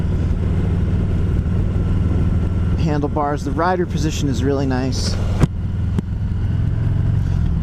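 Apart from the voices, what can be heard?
Harley-Davidson Heritage Classic 114 motorcycle engine with droning exhaust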